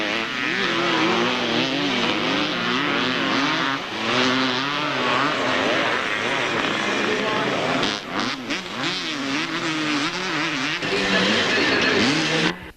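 Classic motocross scramble bikes, including a Kawasaki and a 1974 Bultaco, racing at Hawkstone; engines rise and fall in overlapping revving whines, near and loud, with a commentator talking over them throughout.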